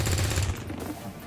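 A rapid, loud burst of submachine-gun fire from a soldier in the turn-based strategy game XCOM 2, dense and close, tailing off into a noisy decay.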